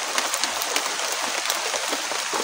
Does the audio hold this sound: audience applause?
no